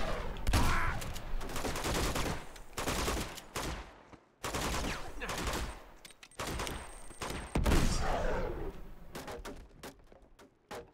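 Video-game gunfire in Uncharted 2: Among Thieves, dense bursts of rapid shots and fusillades in several loud clusters separated by short pauses, sharp and close.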